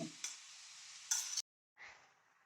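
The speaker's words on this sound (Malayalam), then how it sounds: "ചെറുതായി ഒന്ന് ഇളക്കി കൊടുക്കണം ചീര വാട്ടുമ്പോ നമുക്ക് മൂടി വെക്കണ്ട" Kozhuppa cheera spinach stirred in an open pan with a faint sizzle, brief scraping bursts of the utensil, a short silent gap, then a quieter scrape.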